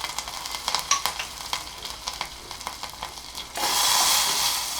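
Oil sizzles and crackles as slit green chillies and curry leaves hit the pan for a dhokla tempering, with clicks of stirring early on, then a loud steady hiss takes over.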